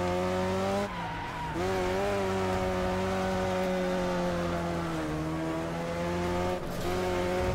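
Race cars skidding in the Wreckfest video game: a loud, sustained engine whine layered with tire squeal, pitch dipping and rising through short shifts, with no talk over it.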